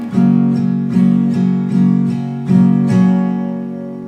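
Acoustic guitar strums chords in a steady down-up pattern, each chord change marked by a strong downstroke, loud and close with no voices.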